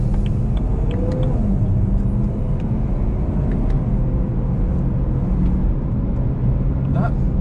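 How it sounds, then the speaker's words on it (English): A BMW V8 engine drones steadily from inside the cabin on a highway, a low continuous rumble with road noise and faint clicks, with no clear rev climb. "the way the revs build up, it just sounds. It sounds amazing"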